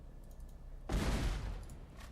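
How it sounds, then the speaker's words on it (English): A cannon fires at a city wall during a siege battle in Age of Wonders III, a single sudden booming blast with a rumbling tail that fades over about a second. "if I go up and shoot this cannon at the wall"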